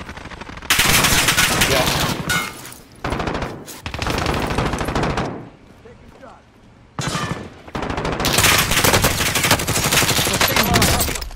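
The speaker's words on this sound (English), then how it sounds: "Hostile fire!" Sustained bursts of machine-gun fire in a video game battle, loud and dense with short pauses between volleys, while squad voices talk briefly over the shooting.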